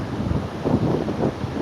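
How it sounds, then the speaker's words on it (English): Ocean waves wash onto a Philippine beach under strong wind, a continuous rushing surge with wind buffeting the microphone, no voices present. "That's waves, by the way, you might be hearing."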